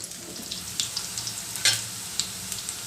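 Garlic egg roast frying in a pan gives a steady close sizzle, with scattered scraping clicks as it is stirred, alone without voices.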